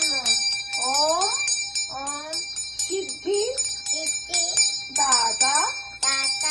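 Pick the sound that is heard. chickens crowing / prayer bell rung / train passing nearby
prayer bell rung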